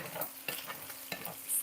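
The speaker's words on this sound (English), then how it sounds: "I do want to stir my bacon." Bacon bits frying on the stovetop with a constant sizzle, broken by three or four distinct scraping stirs of a utensil in the pan.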